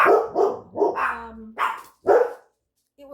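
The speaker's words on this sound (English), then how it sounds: "these dogs" Dogs on a homestead bark in a rapid string of about six sharp, close barks, followed by a brief pause and a faint final yip, with no talking.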